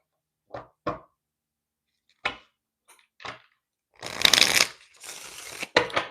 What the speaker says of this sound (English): Now let's pull some tarot.